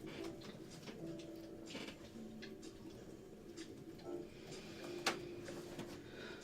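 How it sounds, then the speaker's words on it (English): Scattered bird calls sound faintly in the distance over a steady low background hum, with a sharp click near the end. "You do start to hear some birds chirping."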